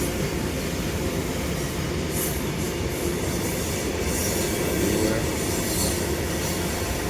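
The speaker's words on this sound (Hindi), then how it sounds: "देखो जी जा रही है ट्रेन।" A long freight train of about 80 to 90 wagons rolls past on the rails close by, a loud, continuous rumble with rhythmic wheel clatter and faint squeals, steady throughout.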